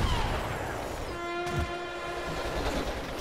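A train rumbles past in Garden Warfare, its horn blaring a sustained chord over the loud rolling noise of the cars, close and continuous.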